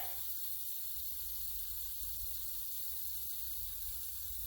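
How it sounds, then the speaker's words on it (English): Water running steadily through household pipes after the main valve is opened, a constant hiss and rush that stays even and unbroken throughout, moderately faint and heard alone. "we're going to wait until we don't hear any more water flowing."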